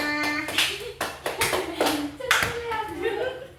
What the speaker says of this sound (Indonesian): Oke, tepuk tangan untuk anak kelas 5-nya.